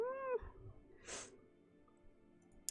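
A pet cat named Miles gives a short meow at the start, a clear rising and falling call, followed by a brief rustle and quiet room noise.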